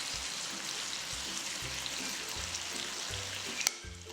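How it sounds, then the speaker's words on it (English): Sweet and sour sauce simmering with potatoes and sausages as it thickens, a continuous close bubbling sizzle with low popping and a single sharp clink near the end. "Bring it to a boil till the sauce thickens."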